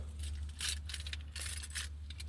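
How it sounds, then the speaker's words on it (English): A bunch of keys jangling as they are put away before kayaking on a lake: two close, bright metallic rattling bursts over a low steady rumble, with no talk. "I want to put my keys and the phone in 3 plastic bags"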